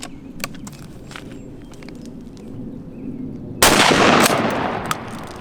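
A Churchill tactical shotgun fires buckshot at a target 10 yards away: one sharp, loud blast cuts through a quiet outdoor background, then a brief ringing tail follows.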